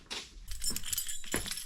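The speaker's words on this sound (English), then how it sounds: "Oh, where are the keys?" Car keys jangle in a dense, continuous metallic rattle, close and fairly loud, lasting under two seconds.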